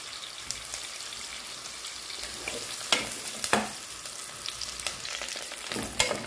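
Macaroni frying in a pan gives a steady close sizzle and crackle, like light rain, with a few scraping stir strokes on top.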